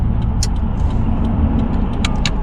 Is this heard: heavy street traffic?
yes